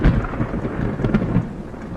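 Thunder from a nearby storm, with lightning striking about a kilometre away, rolls as a low continuous rumble mixed with steady rain, fairly loud and enveloping, with no voices.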